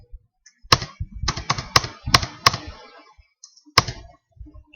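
Fingers type on a computer keyboard in a short burst of crisp, uneven clicks and clacks. One sharp final tap follows after a brief pause, close and distinct with no talking.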